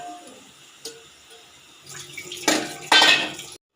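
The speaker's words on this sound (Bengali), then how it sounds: "তো আমি এখানে জল দিয়ে দিয়েছি" Water poured from a vessel into a cooking pan of vegetables, a soft trickle building into a louder splashing gush in two bursts near the end.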